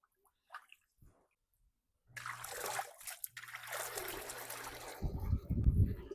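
A Vivosun submersible pump is set running under water in a fish pond, giving a steady trickling, gurgling water noise after a short quiet start, swelling into a louder churning splash near the end.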